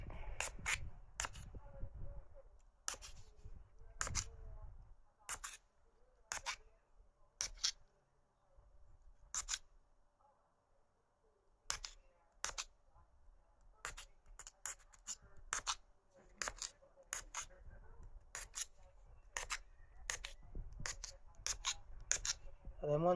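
Silicone pads being punctured one after another with a pencil, producing a series of sharp, close clicks and pokes at an uneven rhythm, with faint rubbing and handling noises between them.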